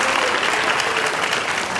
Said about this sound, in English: So if you could give her a round of applause.